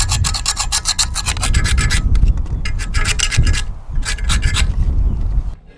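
A hand scraper rasping against a metal base plate on a narrowboat during DIY hull blacking work, repeated close, rough scraping strokes in an irregular rhythm with brief pauses between them.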